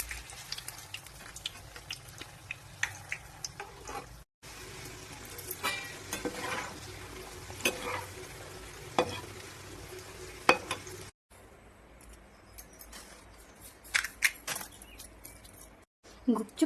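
Gupchup puris fry in hot oil in a kadhai with a steady, crackling sizzle. Occasional clinks and scrapes of stirring come through, and the sizzle briefly drops out a few times.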